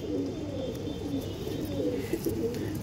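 Old-line owl-face Madras pigeons keep up a dense, low cooing murmur nearby, steady and unbroken from start to finish, with only faint scattered chirps on top.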